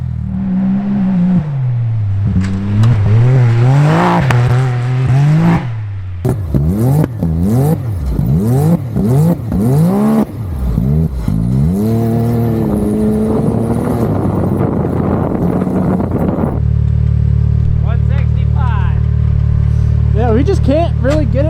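A Can-Am X3 off-road vehicle engine revs hard again and again, its loud, throaty exhaust rising and falling up close, then it settles into a steady rumbling idle.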